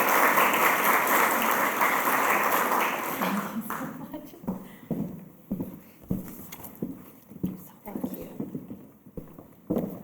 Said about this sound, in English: one more time, a round of applause for our honoree Yasmin Vafa and presenter Dorchin